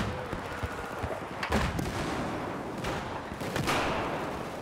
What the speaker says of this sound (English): Oh, so much explosions.